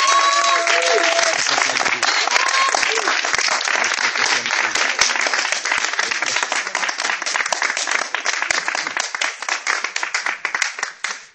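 A church congregation claps and cheers in sustained, dense applause that runs loud and steady throughout, thinning into scattered claps at the very end.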